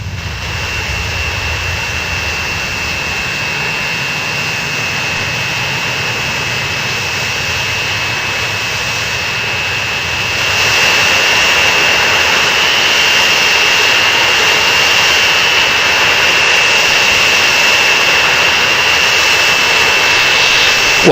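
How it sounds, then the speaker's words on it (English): A jet airplane in the Transport Fever 2 video game roars with a steady, loud engine drone and a thin high whine, growing louder partway through and holding constant. "Ooh, plane."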